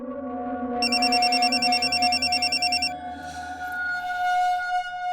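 A telephone rings with a warbling electronic trill, two bursts over a sustained musical tone, fairly loud and close.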